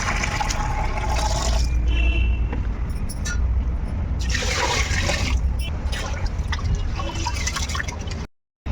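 Water pours steadily into a bucket for several seconds, a continuous splashing rush with brief changes in tone, ending abruptly.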